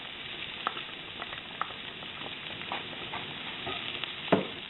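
Garlic cloves frying with browned, crispy onions in a pan, giving a steady close sizzle broken by a few clicks and scrapes of a spoon stirring, with no talking.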